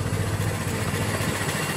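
A Ford Model T engine idles roughly with the spark retarded, a steady low mechanical chug and vibration running continuously and close with no talking.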